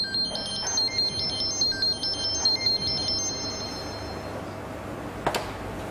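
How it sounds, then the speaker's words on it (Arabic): A mobile phone rings with a bright, repeating electronic melody, loud and close, in quick stepped patterns for about three seconds before fading out, followed by a short sharp click. "شو سالفة تلفونك من أول ما قعدنا وهو قاعد يرن وأنت مطنشته؟"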